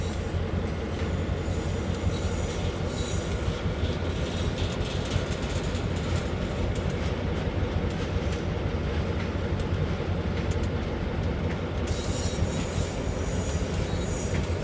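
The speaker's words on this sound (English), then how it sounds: "so you can see trains in the background" Trains run on the rails of the Northeast Corridor in Train Sim World, a steady rolling rumble with clacking wheels and faint squeals, continuous and somewhat distant with no voices.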